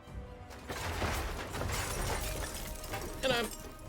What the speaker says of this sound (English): things like buildings crashing and crumbling, many more sound effects for that